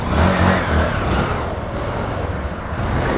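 A motorcycle pulls away and rides off, its engine revving loudly up close at first and then settling into a steadier, slightly more distant drone.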